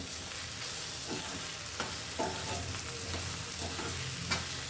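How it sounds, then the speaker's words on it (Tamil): Onions sautéing for onion thokku in a pan, a soft steady sizzle with a spoon scraping and stirring in several distinct strokes, close and moderately quiet, no voices. "எல்லாத்தையும் நல்லா ஒன்றா வதக்கிக்கலாம்"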